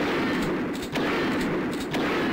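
Shotgun blasts in Duke Nukem 3D with the Platoon TC mod, a tunnel level: a dense, continuous barrage of loud gunfire with a few sharper cracks standing out, close and harsh throughout.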